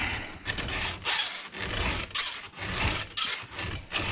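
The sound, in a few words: sharpening Homelite Super XL12 chainsaw chain with file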